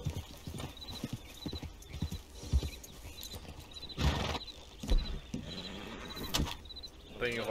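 Horse hooves clip-clop steadily in Red Dead Online, an irregular patter of hoofbeats up close, with a short whinny-like sound near the end and faint game noise underneath.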